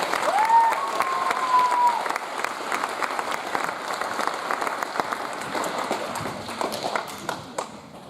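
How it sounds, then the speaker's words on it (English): Warm applause from the audience at an eighth grade graduation ceremony, sustained and fairly close, tapering slightly near the end, with some voices and a cheer briefly audible early on. "So if you'd please give them a warm round of applause."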